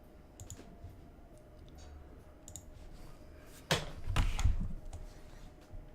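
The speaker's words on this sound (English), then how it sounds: "Sorry for keyboard noise." Close, light clicking of computer keyboard keys, with scattered taps early and a louder burst of rapid typing near the end, picked up by a nearby microphone.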